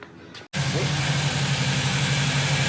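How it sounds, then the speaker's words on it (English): A Volvo engine idles steadily with a low, even rumble after a brief silent cut, continuous and close, with no other sounds over it. "Well, she's idling beautifully right now."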